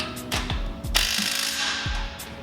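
A ratchet turning a 17 mm socket tightens a nut with a big washer while a reverse hammer is assembled, giving loud, close bursts of rapid metallic pawl clicks in a few strokes, with no voices.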